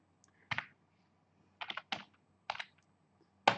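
Keys on a computer keyboard tapped to enter a number, with about eight quick, close clicks in short clusters separated by brief pauses in a quiet room.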